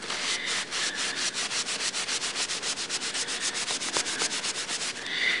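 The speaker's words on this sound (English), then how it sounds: "Put a nice coat of that linseed oil right on the" A rag rubs linseed oil onto a wooden tool handle in quick, even back-and-forth strokes, close and steady, with no voices.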